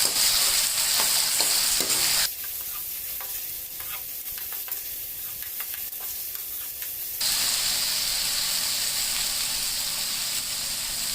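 Vegetables, raisins and cashews stirred and sautéed in a pan, a steady close sizzle with rhythmic spoon scrapes; midway the hiss drops away for several seconds before returning just as loud.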